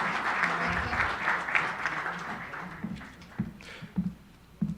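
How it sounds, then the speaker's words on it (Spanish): An audience at a government working-panel session applauds an official, with brisk clapping that thins into scattered individual claps toward the end. "Un fuerte aplauso para Oliver Castañeda Correa"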